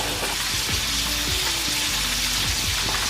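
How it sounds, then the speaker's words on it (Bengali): Whole cumin seeds sizzle in hot oil with a steady, close frying hiss and scattered crackles, no voices over it. "তো গোটা জিরা ফোড়ন দিয়ে দিলাম।"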